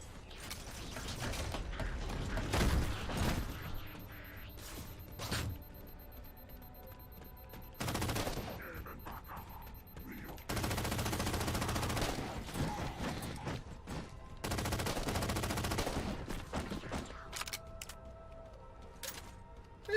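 Rapid gunfire from a weapon in the video game Halo 4, dense bursts of automatic shots alternating with mechanical clicks and clatter, loud and close throughout.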